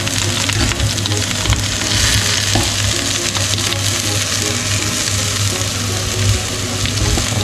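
Kebabs and a giant mushroom sizzling as they cook, a loud, dense and continuous frying crackle close up, with faint stirring or clinking now and then and no talk.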